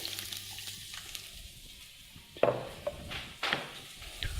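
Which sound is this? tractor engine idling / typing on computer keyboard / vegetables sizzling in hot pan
vegetables sizzling in hot pan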